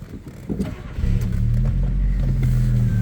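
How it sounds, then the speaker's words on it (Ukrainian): A 1989 Audi 80 engine, running on gas and petrol, cranks and catches about a second in, then settles into a steady, loud, low hum. "Так, заведемо двигун."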